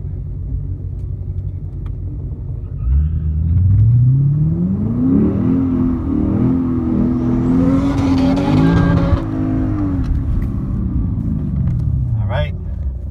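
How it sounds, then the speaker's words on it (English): A Mazda RX-7 engine roars up through the gears in a drag race, rising in pitch with each shift, loud and close, then settles back to a rumbling idle. "racing RX-7 for the first time"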